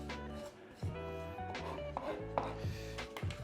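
Garlic crushed with salt using the flat side of a knife on a board for shakshuka, giving repeated firm scraping and pressing strokes with occasional sharp knocks, close and alone.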